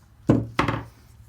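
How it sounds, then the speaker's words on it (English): A small hammer taps a wooden mini arcade cabinet side panel during assembly, two close, sharp knocks about a third of a second apart, then quiet. "it helps to have a little hammer"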